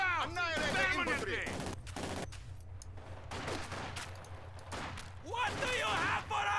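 Gunfire and bursts of automatic weapons in the WWII strategy game Company of Heroes 2, a steady battle din mixed under game voices shouting in the foreground.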